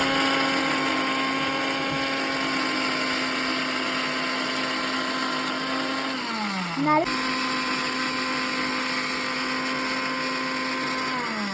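A mixer grinder grinds Oreo biscuits into powder, whirring loudly and steadily, its motor pitch dipping briefly midway before spinning back up to full speed.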